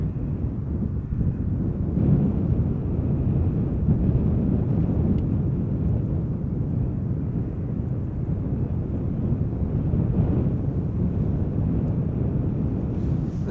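A United Boeing 787-8 Dreamliner bound for Chicago at Schiphol Airport gives a steady, broad low rumble of jet engines that holds unbroken and fairly loud, roughened by wind buffeting on the microphone.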